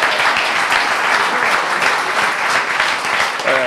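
An audience breaks into steady, dense applause at an indoor update-night event, the clapping loud and continuous across the whole stretch with no pause.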